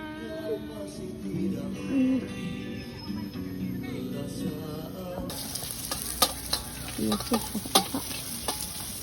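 Nasi goreng stir-fried in a pan at a campsite, with steady sizzling and scraping, stirring strokes that grow louder and sharper partway through, and faint voices in the background.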